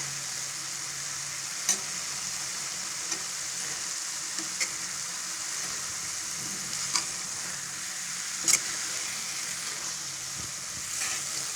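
A sweet dish being stirred in a pan at its final cooking stage, a continuous soft sizzle with occasional scraping clicks of the spoon, steady and close, without speech.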